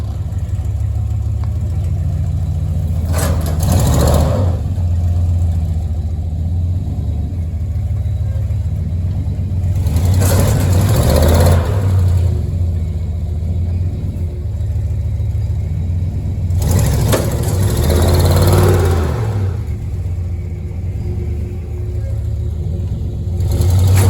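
A truck engine pulling a shipping container toward its foundation revs hard three times in long surges over a steady low idle rumble, each burst rising and falling, close and loud with no talk.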